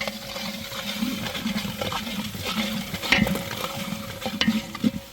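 Potatoes and eggplant sauté in a pan at a beachside cooking spot, giving a continuous sizzle with scraping stir sounds and a few louder clatters, and no talk.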